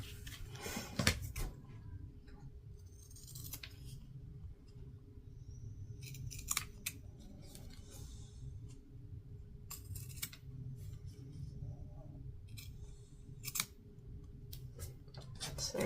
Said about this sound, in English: We're going to snip that off.